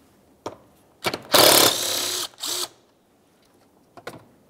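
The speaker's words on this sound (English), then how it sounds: "The next thing that we'll do is remove the 1 8-millimeter headed mounting bolt" Removal of a single 8 mm headed mounting bolt holding the coolant reservoir to the radiator fan shroud on a 2003-2011 Mercury Grand Marquis: a short loud whirring burst of a power tool, then a briefer second run, with faint clicks around them.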